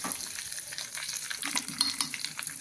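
A tempering of cumin, curry leaves and coriander crackles and fries in a pan with the heat off, giving a brief, close, steady sizzle with small pops and stirring.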